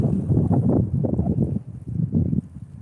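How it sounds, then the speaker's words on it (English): Cold wind at Big Bear Lake buffets the microphone in a loud, continuous low roar, surging and dipping in gusts with no other sound standing out. "It is cold and windy."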